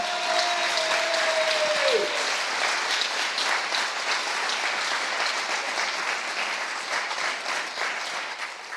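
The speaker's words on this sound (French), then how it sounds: "Vous pouvez à nouveau applaudir Ariane Gottlieb." An audience at a comics event honoring Gotlib and Fluide Glacial breaks into sustained applause, dense clapping that holds steady then slowly fades, with a brief tone at the start.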